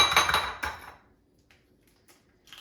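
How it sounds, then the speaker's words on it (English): Eggs are cracked into a bowl for microwave scrambled eggs: a quick cluster of shell taps and clinks against the dish, then near silence with a few faint knocks. "So I'm going to crack eggs in a bowl."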